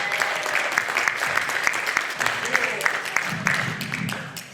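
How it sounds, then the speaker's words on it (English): A college audience at a Family Feud game show event applauds its participants with steady, dense clapping and a few cheers, loud and continuous across the whole stretch. "give a big hand round of applause for your participants"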